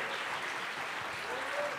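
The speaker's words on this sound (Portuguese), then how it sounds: "Maravilha, uma salva de palmas pra vocês." Steady applause from an audience filling the whole moment, a dense wash of clapping with a voice faintly underneath.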